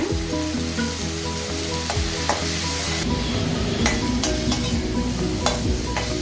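Ground cumin and red chilli powder frying and being stirred in a pan for a Nallampatti country chicken roast, with a steady loud sizzle and scraping strokes of a spoon, no voices.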